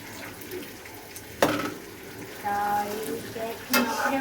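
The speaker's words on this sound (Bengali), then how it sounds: "তখন সেগুলোকে সেই মাংসগুলোকে এই যে এই মশলার ভিতরে দিয়ে ভালো করে নেড়ে ছেড়ে নেওয়া হচ্ছে।" Beef pieces coated in spices and green chillies sizzle softly in a pan while being stirred, with a couple of sharp scrapes and clinks of the spoon against the pan and someone speaking quietly over it.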